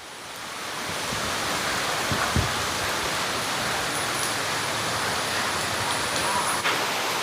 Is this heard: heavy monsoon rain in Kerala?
yes